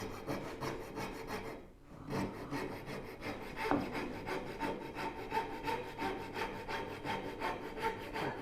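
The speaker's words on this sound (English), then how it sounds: "We'll start rasping it down to final curve" A hand rasp shapes a wooden curve for a Moxon vise. Regular back-and-forth scraping strokes are heard up close and fairly loud, with one brief pause, and no voices.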